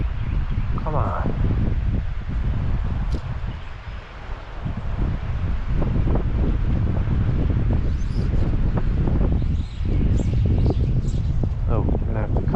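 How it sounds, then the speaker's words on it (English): Strong wind blows in heavy, continuous gusts across the microphone outdoors during dry fly fishing for trout, a loud roar with rustling running through the whole stretch, and a voice talks faintly underneath. "I'm gonna have to calm down and wait for the wind to slow down here a little bit."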